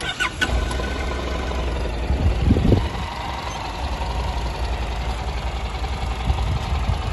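A Honda NC700X ABS motorcycle engine idles steadily at close range, with a low, even rumble and a short rev or rise in the middle.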